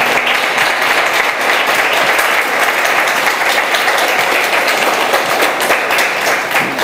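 An indoor audience applauding a speaker at an art and ecology talk, dense steady clapping that stays loud and even throughout.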